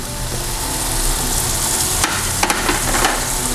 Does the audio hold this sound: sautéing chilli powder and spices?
yes